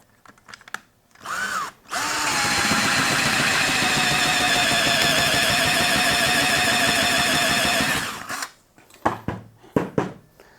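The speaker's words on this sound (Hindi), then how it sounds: "काफ़ी ज़ोर लगा रहा हूँ फिर भी ये ड्रिल रुक नहीं रही है।" A Total 18V cordless drill bores a hole, whining steadily and loudly for about six seconds after a brief start, then stops, with clicks and handling noise before and after.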